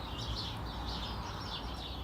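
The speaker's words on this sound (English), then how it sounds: "Listen to the birds." Birds sing and chirp faintly in a peaceful home yard, a soft, steady twittering set against a constant background hiss of the outdoors.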